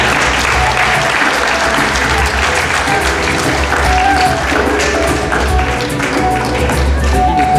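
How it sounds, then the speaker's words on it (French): A large audience applauds loudly and steadily at a festival in Quimper, a dense, close wash of clapping that holds without pause for nearly eight seconds, with a low rumble underneath. "On les applaudit bien fort."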